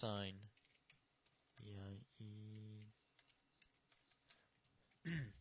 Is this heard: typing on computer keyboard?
yes